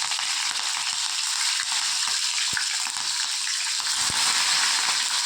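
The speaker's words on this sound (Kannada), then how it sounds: "ಬಾಣಲಿಗೆ ಸ್ವಲ್ಪ ಎಣ್ಣೆ ಹಾಕಿ ಅದಕ್ಕೆ ಸಾಸಿವೆ ಹಾಕಿದ್ದೀನಿ" Mustard seeds and urad dal fry in hot oil in a pan for a tomato bath tempering, a loud, dense, continuous sizzle and crackle with a few sharp pops, heard close and without any talk.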